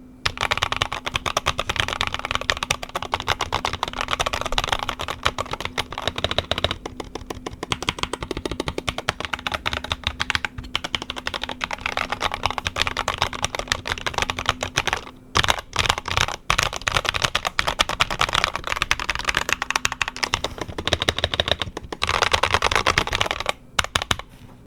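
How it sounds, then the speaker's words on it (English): Typing on a Redragon K556 SE Sakura Pink mechanical keyboard with an aluminum frame: a steady, dense stream of close, crisp key clacks for about twenty-five seconds, with short pauses and no voices. "so that is our sound test for our Devarajas K556 SE Sakura Pink keyboard from Redragon"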